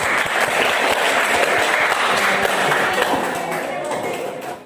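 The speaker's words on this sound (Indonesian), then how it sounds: "kita kasih aplaus ya" A classroom group bursts into sustained applause, dense and close, with many hands clapping steadily at an even level before it tapers off at the end. A few voices mingle faintly under the clapping.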